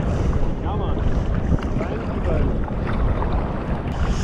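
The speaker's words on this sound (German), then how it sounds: "Da kommt die Welle" Sea wave surging against a kayak off the coast of Sweden, a churning wash of water under heavy wind buffeting close to the boat, with faint voices in the background.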